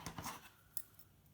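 Scissors snip through a ribbon knot for a homemade business card box, a few quick, close, quiet cuts with a brief metallic click near the end.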